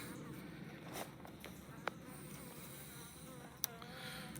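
Honeybees swarm around an open hive during a beekeeping inspection, a faint, dense, continuous buzz with a couple of sharp clicks, heard alone without talking.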